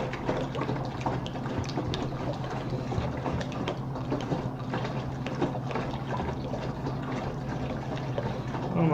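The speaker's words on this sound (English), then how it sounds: "I'm going to go ahead and add my first gallon of cold water to my fermenter" Cold water pours steadily into a beer fermenter, a continuous splashing, gurgling rush that stays loud and even from start to finish.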